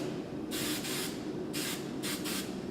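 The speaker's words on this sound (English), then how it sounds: "We're going to spray so that nothing pops out." Hairspray hisses in four quick bursts over a bridal updo with hair extensions, close and airy, set against a constant loud background hum.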